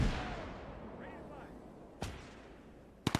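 Mortar rounds fire and land in the Gates of Hell Ostfront war game, with a sharp distant boom fading into a long rumbling tail, then a crack near the two-second mark and a quick burst of three blasts at the end.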